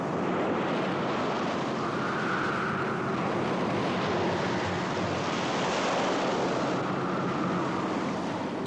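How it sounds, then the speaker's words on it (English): Strong wind roars with crashing waves in an Antarctic bay, a dense, continuous rush of noise that swells and eases slightly throughout, with no talk. "the wind goes up to 100 knots, 120 miles an hour."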